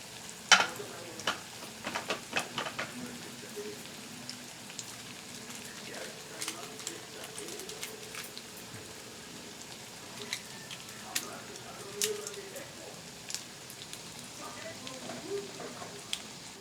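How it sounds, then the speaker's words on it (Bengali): Flattened rice and potato cutlets fry in hot oil with a steady, moderately loud sizzle broken by scattered sharp crackles and pops. "আমার এই কাটলেটগুলো ভাজা হয়ে গেছে চিড়ে আলুর কাটলেট"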